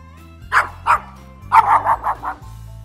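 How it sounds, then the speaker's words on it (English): A dog barks in a children's alphabet toy game: two single barks followed by a quick run of four or five yips, fairly close and clear over a low steady background hum, with no talking. "Dog."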